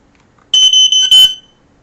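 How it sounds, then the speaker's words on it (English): A smoke detector emits loud, shrill electronic beeps, a short burst of tones lasting about a second after its test button is pressed, in a quiet room. "Okay, that's the one that beeped at me."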